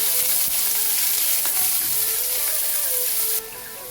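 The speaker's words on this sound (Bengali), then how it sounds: "পেঁয়াজের সাথে রসুনটা ভেজে নিচ্ছি।" Onion and crushed garlic cloves sizzle steadily in a hot pan, a close, continuous crackle with occasional stirring scrapes and no talking.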